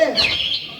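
Close, bright bird chirps in a rural outdoor setting, a short burst of high tweeting calls running through under a second.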